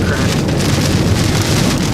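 Hail storm hitting Oklahoma City near Meridian Road, a loud, dense, continuous pelting roar mixed with wind, close and unbroken throughout.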